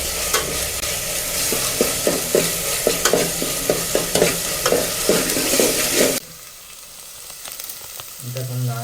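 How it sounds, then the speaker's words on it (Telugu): Garlic paste frying in a pan and being stirred steadily, with a loud, bright sizzle and a regular run of scraping strokes for about six seconds before the sound drops off suddenly, leaving quieter clatter. "మంచిగా పచ్చి వాసన పోయే వరకు కలుపుకుంటూనే ఉండాలి"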